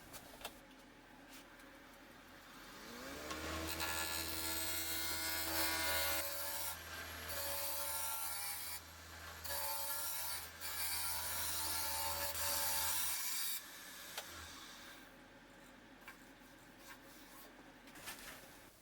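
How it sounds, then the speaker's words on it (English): A wood lathe spins up and rounds over a 2 1/4 inch wooden blank for a salt mill, a steady loud hum with a rough scraping cut on top, briefly pausing twice before winding down and stopping. "I'm going to start the project by rounding over this blank similar to last time"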